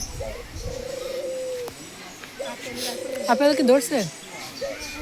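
Pigeons coo near a pigeon house in a series of low, rolling calls, including a louder flurry late in the clip, with people talking over them throughout.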